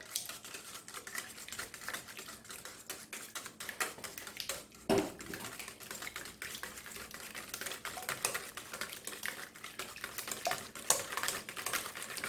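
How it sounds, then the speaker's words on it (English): A whisk taps and scrapes rapidly against a bowl, breaking down butter for a coconut pie, in a quiet, continuous clatter with one sharper knock midway. "Break that down, whisk it up."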